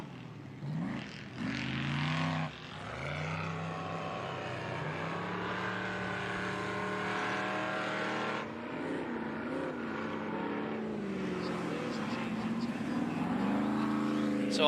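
Race vehicles on Yokohama tires and King shocks run a race track, making a steady, fairly faint engine drone that holds for the whole stretch, with a brief surge near the start.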